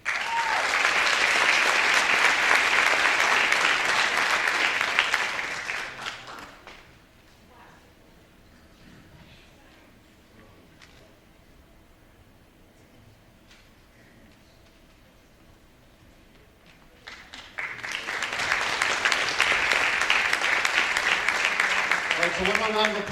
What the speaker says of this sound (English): one more round of applause for all of our St. Germain Award recipients